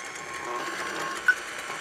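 A stand mixer beats melted butter with granulated sugar for red velvet cupcake batter, a steady mechanical whir running without pause at moderate volume, with a brief clink near the end.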